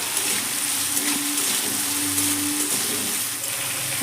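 Seeded, chopped tomatoes fry in a pan over high flame while vegetable suji is cooked, giving a steady, close, even sizzle with no talk.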